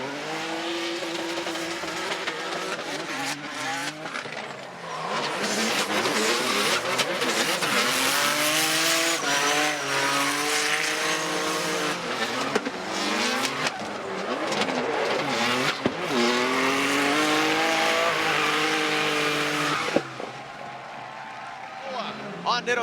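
Toyota GR86 drift car on Nitto tires, engine revving and rising and falling through gear changes while the tires squeal through a long slide, with a commentator talking over it.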